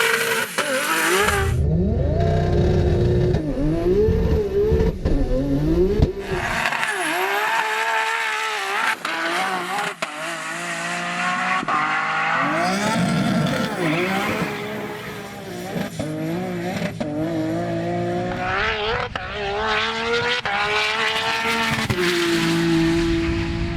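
A manual Nissan GT-R race car with an RB30 engine, a Precision 7685 turbo and a PPG 6-speed sequential gearbox, racing at Cootamundra, roars through repeated gear changes and revving surges, loud and sustained with rising and falling engine pitch.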